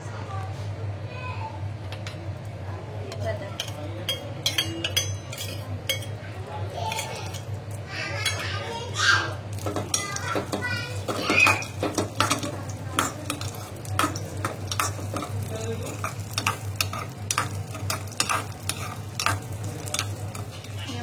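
Semolina for sheera roasts in ghee in a pan while a spoon scrapes and stirs it in repeated clinks and scrapes over a low steady hum, near and fairly loud, with a voice talking at times.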